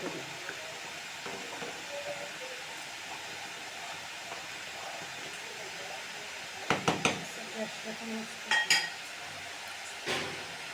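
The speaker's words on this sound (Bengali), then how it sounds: "ঢাকা দিয়ে দিচ্ছি" Metal lid set onto a cooking pot of haleem simmering over a low gas flame, a few sharp clinks and clatters near the end over a steady low background hum.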